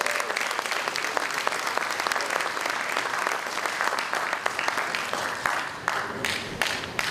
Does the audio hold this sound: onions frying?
no